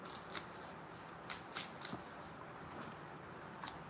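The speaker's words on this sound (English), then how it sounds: "I'll shuffle 2 more times." A deck of small cards is riffled and shuffled by hand close up, with quick crisp bursts of flicking paper at irregular intervals over a quiet background.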